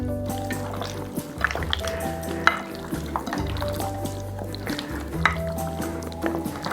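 Hands mixing pieces of pork with black bean garlic sauce and cornstarch make wet, squelching, sticky sounds, steady and close, with a low hum running underneath.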